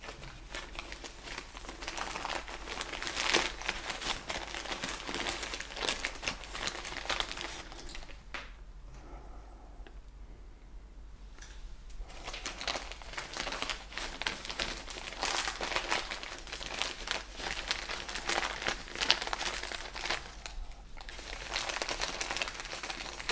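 Polyethylene bag crinkling and rustling close up as it is filled with substrate around a Ficus benjamina trunk for air layering, a long run of dense crackles that pauses briefly midway.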